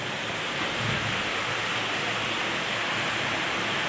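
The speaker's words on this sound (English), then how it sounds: "The whole ceiling dripping." A cave ceiling drips everywhere inside Bridge Cave in the Nedd Valley, a steady dense patter of falling water that blends into a continuous wash, close and even throughout with no voices.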